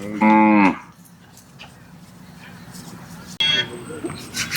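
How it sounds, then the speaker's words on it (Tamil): Cattle at the Kannapuram native cattle market give a loud, close moo, then a second moo after a stretch of low market murmur, with crowd noise underneath. "கண்ணபுரம் நாட்டு மாட்டு சந்தைக்கு வந்த மாடுகள்."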